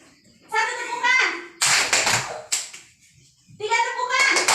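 Schoolchildren in a classroom lesson clap together in a sharp burst of hands, set between a child's sung-out voice before and after, with a second brief clap following shortly.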